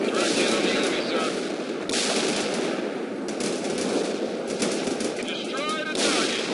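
Bursts of gunfire and machine-gun rattle from a World in Conflict battle involving Bradley infantry, sounding in repeated clusters over game ambience, with radio-style voices faintly in the mix.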